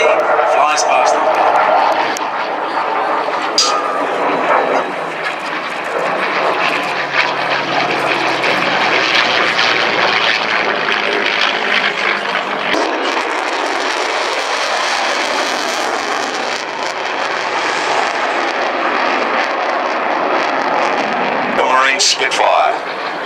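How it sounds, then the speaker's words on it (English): A Spitfire Mark 5C at an air display roars past with a loud, sustained propeller engine drone that swells and shifts pitch as it passes, with an announcer's voice over it. "Spitfire Mark 5C flies past them"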